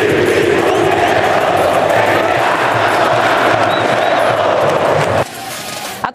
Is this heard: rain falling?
no